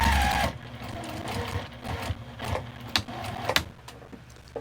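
A sewing machine runs a quarter-inch seam with a quarter-inch presser foot on a scrappy quilt-as-you-go tote bag, a steady close mechanical whirr with a few sharper clicks and knocks, no talking.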